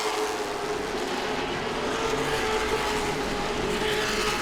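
Late model stock cars race at Langley Speedway, a continuous loud roar of engines on the oval track with a steady, unbroken drone.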